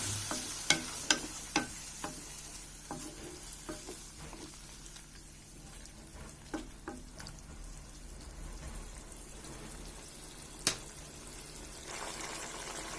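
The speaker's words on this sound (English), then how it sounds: "after adding the water, it has started bubbling" Soft sizzling and gentle bubbling of yellow pumpkin curry in a pan after water is added, with scattered pops and occasional utensil clicks, fairly quiet throughout.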